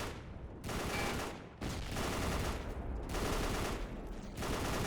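Sustained machine gun fire in the Battle for the Pacific game, long continuous rattling bursts broken by a couple of brief pauses, dense and steady throughout with no voices.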